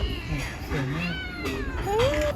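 A cat meows several times nearby, with rising, drawn-out cries over a low background of voices and room noise.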